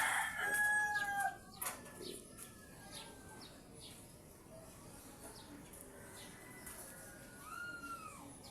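Wild red junglefowl crows in the open, a distant rooster-like call rising and falling near the start, with fainter bird chirps and crowing scattered over quiet outdoor background.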